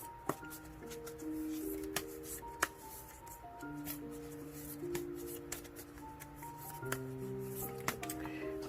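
Tarot cards being shuffled and drawn by hand, producing soft, scattered flicks and taps at close range under a faint, steady background tone.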